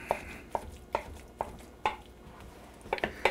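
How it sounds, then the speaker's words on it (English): Knife chopping spinach on a board for a spinach and ricotta cannelloni filling, about a dozen crisp, close chops in an uneven rhythm, spaced apart at first and then bunching into quick clusters near the end, with no talk. "But I'm going to chop this pretty well."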